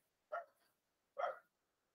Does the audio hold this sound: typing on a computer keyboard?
no